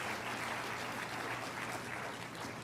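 A church congregation applauding for the Lord during a sermon, dense steady clapping from many hands, loud and continuous for a few seconds with no voices over it.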